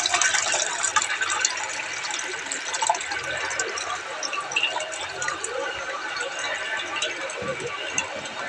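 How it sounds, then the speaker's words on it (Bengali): Rice is rinsed in a pot of water, with continuous splashing, swishing and trickling close by, while someone talks over it. "এই যে চালটা ধুয়ে নিলাম"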